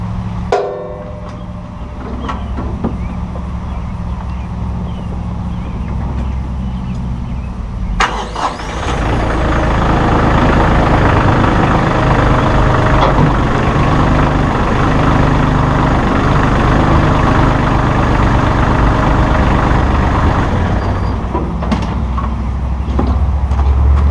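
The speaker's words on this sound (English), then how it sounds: "the mower will need to fire up the tractor" Tractor with a 3-point rotary cutter mower attached, engine cranking and catching after several seconds, then settling into a loud, steady diesel idle that runs to the end.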